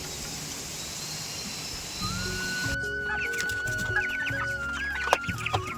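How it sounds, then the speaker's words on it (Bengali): Chicks about twenty days old and adult chickens cluck and peep close by, starting after a couple of seconds of steady outdoor noise and growing busier toward the end. "এগুলো হচ্ছে আমাদের মুরগির বাচ্চা কুড়ি দিনের মধ্যে অত বড় হয়ে গেছে"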